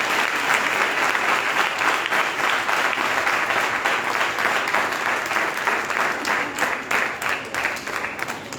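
An audience at a church gathering applauds in thanks, a loud, dense, sustained round of clapping from many hands that carries on steadily for several seconds.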